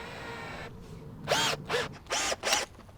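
Power drill driving a screw into soft, poor-quality wood, heard as four short whirring bursts in quick succession after a quieter stretch.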